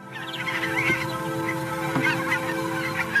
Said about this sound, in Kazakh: жол құстары туралы бейне таспаны көріп тамашалайық